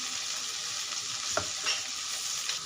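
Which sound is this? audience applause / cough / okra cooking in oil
okra cooking in oil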